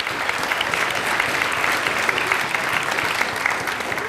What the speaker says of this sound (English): I want to give a big round of applause for our women in engineering students